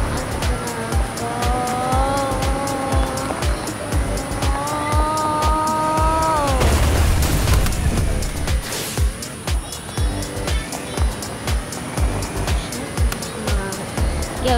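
Fast cars race past with roaring engines that rise and fall in pitch, overlapping under a steady engine drone, with a brief burst of tire squeal and skidding in the middle, close and loud throughout.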